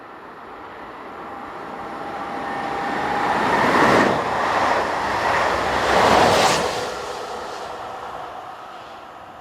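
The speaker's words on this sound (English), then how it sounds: "25654 powers this, the 1646, from Chalon-sur-Saône to Dijon local stopping service" Electric locomotive 25654 hauling a local stopping train from Chalon-sur-Saône to Dijon on the main line, a steady rumble building as it passes close with two louder swells, then easing away.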